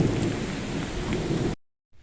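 Heavy rain pours steadily during a summer thunderstorm in Greenfield, Indiana, with low thunder rumbling through the dense roar before the sound drops abruptly to near silence.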